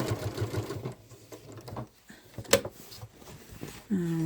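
A Janome Inspire sewing machine stitches a seam on a crossbody bag, a quick rhythmic needle chatter at the start, then quieter handling, a short click and a brief motor whir near the end.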